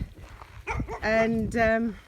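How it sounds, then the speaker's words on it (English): Farm dogs barking at a wild boar on an off-grid property in central Portugal, a couple of loud, close, drawn-out barks or yelps, with someone speaking over them. "dogs are, as you can hear, keeping it under control"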